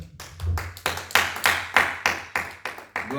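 A church congregation claps in praise, a loud, rhythmic run of hand claps about every third of a second, with a low hum underneath.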